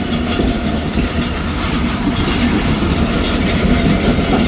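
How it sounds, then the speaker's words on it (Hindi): Farid Express pulling through Saja station on a Pakistani rail line, a steady loud rumble of carriages with faint clickety-clack of wheels over the joints, continuous and close throughout. "तो अब साजा पहुंची है फरीद एक्सप्रेस"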